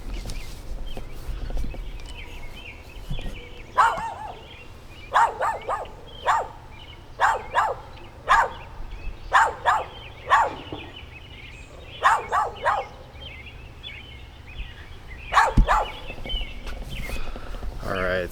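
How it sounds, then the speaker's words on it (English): A dog barks repeatedly outdoors in irregular clusters of sharp, fairly close barks over a low background hum, with a person's voice heard faintly at times. "look at this dog really quick because he really wants some"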